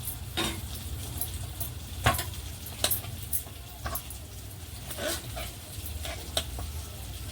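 Knife finely chopping cucumber on a board, a string of irregular sharp taps and clicks over a faint steady background hum, fairly quiet, with no talking.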